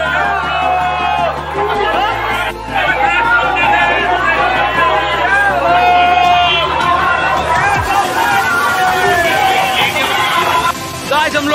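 Dense crowd hubbub outside a busy temple in Rajasthan during Holi, with many overlapping voices and shouts close by, loud and continuous, a low rumble underneath early on.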